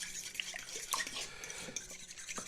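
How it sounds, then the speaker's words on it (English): Egg mixture with mustard whisked in a bowl for a ham, egg and cheese breakfast casserole, quiet rapid clinks and light scraping of the whisk against the bowl. "I'm gonna whisk this up because I want to get the mustard kind of mixed around really good"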